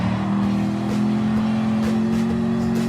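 A Dodge Viper race car in Gran Turismo Sport holds a loud, steady engine drone at close range, with faint whooshes from other cars; no one speaks.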